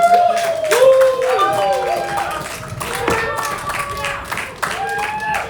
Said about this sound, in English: We don't accept any lazy clapping.